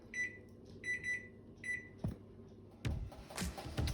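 A kitchen appliance timer sounds three quick electronic beeps during baking of oatmeal chocolate chip cookies, followed by clicks and the clunk of a door or cupboard opening close by.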